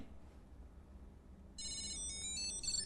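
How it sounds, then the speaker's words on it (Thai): Car key finder fob beeping after being triggered from a phone app, a sudden bright electronic ringing tone that starts partway in and continues steadily, fairly faint, with no talk. "ก็คือจะส่งเสียงมาที่กุญแจรถอาจารย์ทันทีค่ะ"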